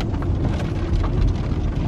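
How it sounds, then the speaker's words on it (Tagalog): Heavy rain falls outside a car, making a dense, steady hiss and patter of drops over a low rumble, with no talking. "Ang ulan ngayon, guys."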